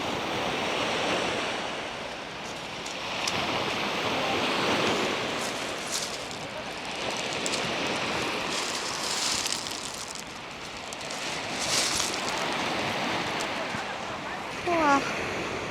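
Ocean waves washing onto a beach at Geoje in southern Korea, broad continuous surf with wind buffeting the microphone, swelling and easing in slow surges; a short voice cuts in near the end.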